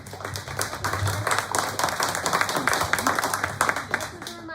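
An audience at a candidates forum gives a sustained round of clapping, dense and fairly close, lasting the full few seconds with uneven swells.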